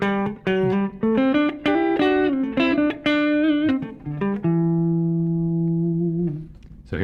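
Electric guitar played through a Strymon Iridium modeling a Lux Reverb amp, clean melodic single notes and chords with a sustained final chord ringing out, loud and alone.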